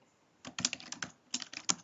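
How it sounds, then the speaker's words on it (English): Someone types a short burst on a computer keyboard while working in an Excel spreadsheet, with quick, close, crisp clicks, a pause, then a few more keystrokes that include the Enter key. "and then hit enter twice"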